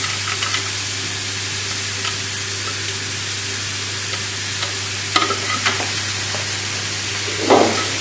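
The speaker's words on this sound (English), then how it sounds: "And we can turn the heat up now. And then just tip in your mushrooms." Mushrooms tipped into a hot pan sizzle in a loud, steady, close hiss, with a few clinks and scrapes near the end and no talk.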